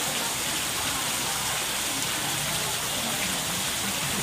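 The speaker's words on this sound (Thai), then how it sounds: "มันจะมี น้ำไหลออกมาจากโต๊ะก็คือเป็นระบบ กรองของร้าน" Water flowing out of a table in a carp cafe's filtration system, a steady broadband rushing and splashing that stays constant and fairly loud throughout, with no talking.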